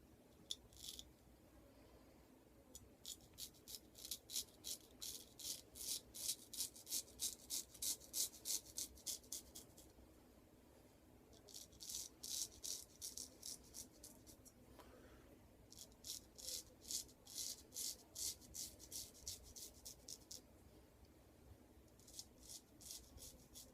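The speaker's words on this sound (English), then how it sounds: "It's shaving just beautifully." A straight razor blade, its heel ground down, scrapes over lathered skin in repeated close, rasping strokes, arriving in quick rhythmic runs of several seconds separated by short pauses.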